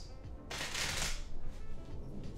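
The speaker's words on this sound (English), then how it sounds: "the cards at this point, you know, really are shuffled" Playing cards being riffle-shuffled in one loud, dense burst of crisp flutter lasting under a second, followed by softer handling and quiet background.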